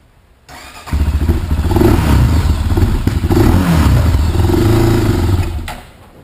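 A quad ATV engine cranks and catches after a short pause, then runs with a loud close rough chugging for several seconds before cutting off near the end.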